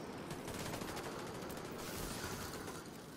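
Dense, sustained gunfire during a firefight in the video game The Division 2, rattling continuously at a muted, slightly distant level with no voices over it.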